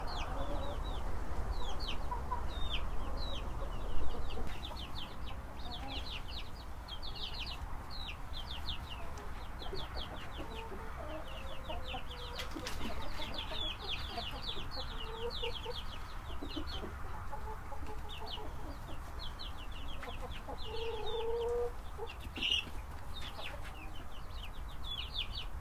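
Chickens cluck steadily over a constant stream of high, rapid peeping, moderately close, with no talking.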